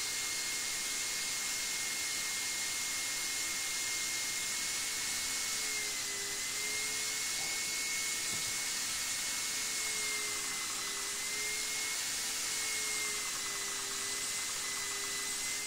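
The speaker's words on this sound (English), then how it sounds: "I then connected up the motor in star or Y configuration and attempted the first motor spin." A prototype axial flux synchronous motor spins under an ESC, giving a steady, continuous electric whine with a slightly wavering pitch over a constant hiss, with no voices.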